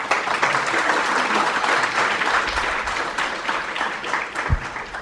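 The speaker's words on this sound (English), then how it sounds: "Can we give a loud applause to" Steady broadband applause from an audience at a university lecture event on technology and India's economic growth, sustained and dense across the whole stretch, with a low thump near the end.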